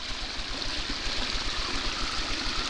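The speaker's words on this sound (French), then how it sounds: "Un petit ruisseau juste derrière le cottage." A small stream trickles and burbles just behind a cottage in a wooded Sologne park, a steady close babble of water with no other sounds.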